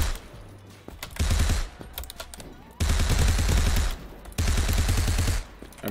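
Rapid automatic gunfire in Krunker comes in three loud sustained bursts, separated by short pauses of quieter in-game sound.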